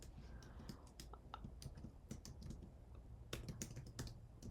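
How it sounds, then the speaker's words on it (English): Quiet, rapid clicking of a computer keyboard as a print statement is typed, irregular bursts of keystrokes close by with a faint background hum and no speech. "I'm gonna simply type the print statement"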